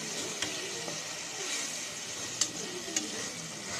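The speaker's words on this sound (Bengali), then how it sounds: "এক চামচ রসুন বাটা, আদা বাটা। এগুলো আমি ভালো করে ভেজে নেব।" Garlic and ginger paste frying in a pan gives a soft, steady sizzle with a few faint clicks of a spoon stirring.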